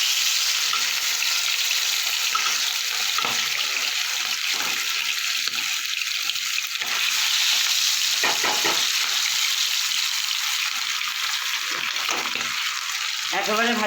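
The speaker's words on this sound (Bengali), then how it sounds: "তাহলে আমি মাছগুলো একটা করে ভেজে নেব।" Fesa fish fry in hot oil in a wok with a continuous loud, close sizzling hiss, joined by occasional stirring clatter and brief bursts of spattering.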